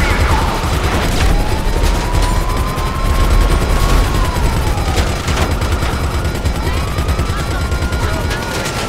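Rapid gunfire from GTA as players drive around shooting at police, with dense repeated shots and sirens rising and falling over constant traffic and explosion noise.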